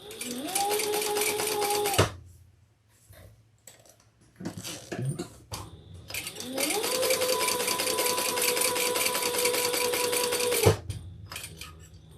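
A sewing machine stitches around the inside of a Lola handbag in two long, fast runs of rapid mechanical clatter with a rising motor whine, separated by short pauses with small handling clicks.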